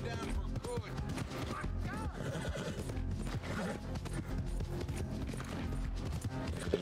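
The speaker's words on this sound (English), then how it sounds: "Thank God my horse is fucking fast as fuck" A horse gallops in the Red Dead Redemption 2 video game, with dense, continuous hoofbeats and a whinny amid loud game sounds, all beneath someone talking.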